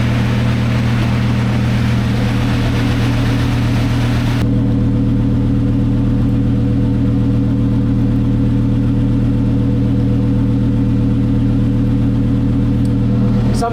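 A twin-turbo Lamborghini Huracan engine drones loudly and steadily on a dyno, its deep low-pitched roar holding constant throughout, with a brighter intake rush over the first few seconds before it settles into a heavy, sustained hum.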